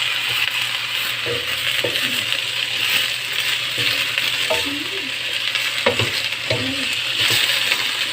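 Vegetables for pancit canton sizzle steadily in a hot pan, with a constant frying hiss and scattered scraping and clinking as they are stirred.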